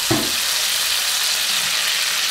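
Rice-wash water poured into a pan of browning mackerel, a brief low splash followed by a steady, loud, close hiss of sizzling.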